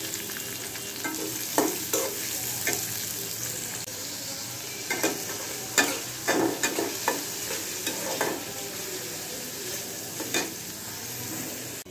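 Chopped onions fry in a pan under a constant sizzling hiss, and a spatula stirs them in irregular scraping strokes that jump out above the sizzle, close by.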